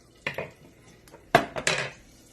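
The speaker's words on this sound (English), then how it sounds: "Just mix that around." A utensil scrapes and clinks against a pan in a few short bursts while mixing in saffron water for Persian dill rice, with quiet pauses between the strokes.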